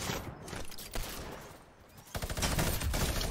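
Rapid gunfire from a minigun in the Fortnite video game, heavy and sustained bursts that swell louder toward the end, with game ambience between.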